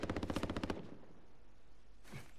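Rapid burst of automatic gunfire in a video game, about eight quick, loud shots in under a second, followed by quiet ambience and a brief muffled sound near the end.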